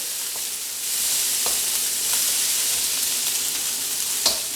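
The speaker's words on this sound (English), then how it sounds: "I'm going to put in some soy" Soy sauce hitting a hot wok of special fried rice gives a steady, loud hiss of sizzling that swells and holds, with a few faint clicks of stirring and no talk.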